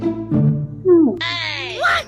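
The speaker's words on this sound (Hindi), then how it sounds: "बिल्ली" A brief low voice is followed by a cat's high, drawn-out meow, close and fairly loud.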